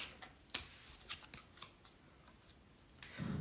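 Soft papery flicks and riffles as a deck of angel oracle cards is shuffled by hand, several quick irregular strokes, faint and close, ending in a low rustle.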